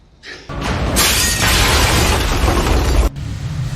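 A grenade goes off in an action film with a sudden loud blast, followed by a sustained roaring burst of crackling, shattering debris. The burst cuts off abruptly after about two seconds and leaves a low rumble.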